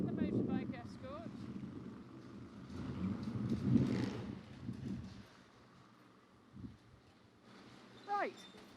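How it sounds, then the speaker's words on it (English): A motorbike escort rides past on a village road at a Derbyshire well dressing: engine rumble swells to a peak then fades, with a few later brief passes and faint bird chirps in quiet gaps. "And the motorbike escort."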